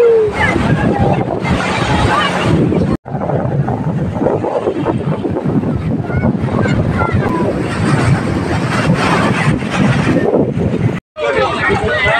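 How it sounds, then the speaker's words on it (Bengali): Sea waves roll in at Digha beach, a broad wash of surf mixed with gusting wind noise on the microphone, while people talk and shout over it nearby. "ঢেউ"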